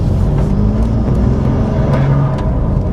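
Steady, close engine drone from a BMW M2 Competition with a six-speed manual and CS-spec remap while driving, a continuous low rumble with no speech.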